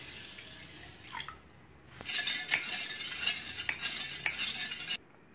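A spoon stirs sugar into water in a pot for mango ice cream syrup, giving steady swishing and scraping with clinking knocks against the metal, close and continuous, with no talking.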